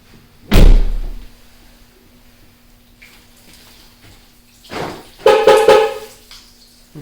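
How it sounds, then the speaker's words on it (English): A car door on a 2012 W204 Mercedes C63 AMG shut with a loud, solid thunk close by, followed later by softer clunks and a brief tonal sound. "So close the door."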